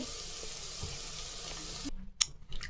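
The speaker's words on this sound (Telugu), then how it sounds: "water పోసుకున్నాను, boiling water" Boiling water is poured into a pot of paneer cashew pulao, giving a steady hiss and sizzle that cuts off abruptly, followed by a few brief splashes and clinks.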